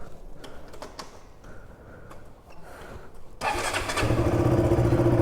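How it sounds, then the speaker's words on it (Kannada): Motorcycle with a recently serviced engine and a weak battery starting up: a few quiet mechanical clicks and cranking, then the engine catches and settles into a loud, steady idle for the final seconds. "ಗಾಡಿ ದೇವ್ರಂಗೆ ಸ್ಟಾರ್ಟ್ ಆಯಿತು"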